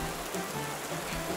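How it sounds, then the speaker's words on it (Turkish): Steady rainfall, a dense hissing patter that holds evenly for the whole moment, with no voices over it. "Hemen sihir yapmış ve yağmur yağmaya başlamış."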